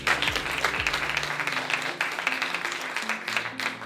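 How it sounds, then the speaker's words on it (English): Audience applause at a business breakfast event, dense continuous clapping from a sizable crowd, loud and sustained throughout, with a low musical tone sounding underneath. "Please, let's give her a round of applause."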